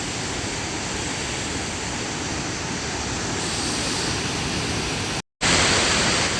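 Loud, unbroken roar of water rushing through the dam gates at Mallavaram Project, Maddipadu, Ongole, a dense wall of noise that cuts out briefly near the end, then returns even louder.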